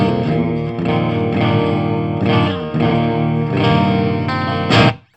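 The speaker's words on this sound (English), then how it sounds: "I really don't know why I'm demonstrating a clean tone." A clean electric guitar tone runs through an old-school death metal amplifier. Ringing strummed chords shimmer with chorus and reverb through several loud chord changes, and a sharp final strum cuts off abruptly.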